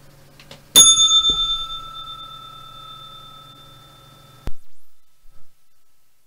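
A single bright bell strikes loudly and rings on with a steady, slowly fading tone for about four seconds before cutting off abruptly, leaving near silence.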